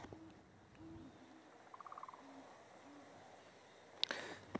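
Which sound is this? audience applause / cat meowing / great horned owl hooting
great horned owl hooting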